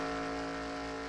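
A truck engine idles in a racing video game during a truck series race at Charlotte, a steady, low, droning hum with an even rumble and no revving.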